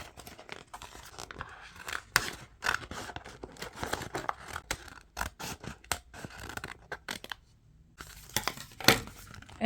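Scissors cut through a sheet of craft vinyl up close, giving quiet snips and crinkly scraping in an irregular run of short bursts with brief pauses.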